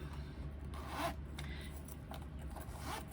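A zipper on the external back pocket of a handmade fabric pouch is pulled open and closed in a few close, raspy strokes, heard alone.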